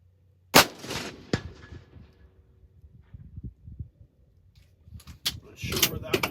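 A rifle cracks once, sharp and loud, with a second sharper report soon after, then quieter handling noises and faint clatter follow, with a burst of activity near the end.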